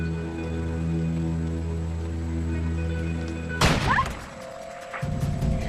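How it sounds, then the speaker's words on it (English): A single gunshot cracks out abruptly in a swamp, a sharp broadband burst cutting through a steady droning hum and fading quickly into a quieter, reverberant tail. "That was a gunshot."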